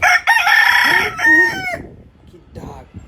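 A rooster crows loudly and close by, one long full cock-a-doodle-doo that breaks off partway, then a weaker second crow trails after a short pause.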